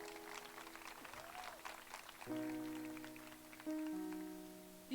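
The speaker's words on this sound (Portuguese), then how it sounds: "Queria que vocês dessem mais uma salva de palmas para o Davi de novo." Faint, scattered applause from a live audience patters in the background while sustained keyboard notes enter and shift midway.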